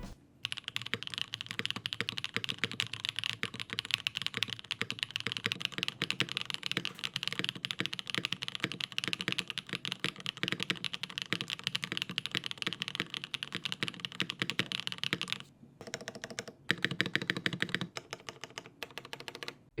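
Fast, continuous typing on a Neo 75 custom mechanical keyboard, a dense stream of close clacky keystrokes that breaks briefly near the end into a few scattered presses.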